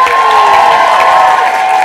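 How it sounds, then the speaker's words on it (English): Applause and cheering from a live improv comedy audience welcoming a chef onstage, a dense, steady wash of clapping and crowd noise filling the room at close range. "Big round of applause for Chef"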